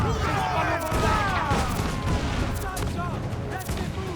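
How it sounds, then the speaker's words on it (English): Mortar and cannon fire thunders during a naval battle in Assassin's Creed Black Flag, with repeated booms and crashes under a constant dense wash of wind, sea and crew noise. Voices shout over the fighting. "They're firing mortars!"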